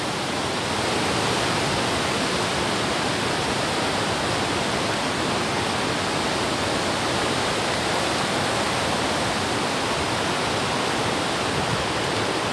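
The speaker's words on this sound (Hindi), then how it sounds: "ये जो पानी वाला शोर है ना, सीरियसली मुझे तो इतना डर लग रहा है।" Rushing water at an outdoor picnic spot, a loud, dense, continuous roar like a stream or small waterfall close by, unbroken for the whole stretch with no voices.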